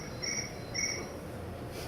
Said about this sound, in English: are there actually crickets?